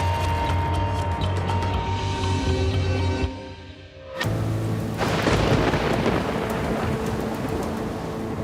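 A massive thunderstorm over Austin, Texas, with heavy rain pouring steadily and loud rolling thunder rumbling through the downpour, easing briefly before another crash of thunder and renewed roaring rain.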